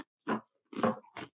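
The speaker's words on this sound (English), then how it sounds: "You can hear that crunch." Crisp crunching bites of pretzels, three separate close chewing crunches in quick succession against near silence.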